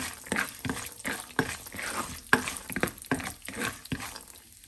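Chana dal, urad dal and a tablespoon of peanuts fry in a pan, with repeated scraping stirs over a steady sizzle, close and moderately loud, no voices.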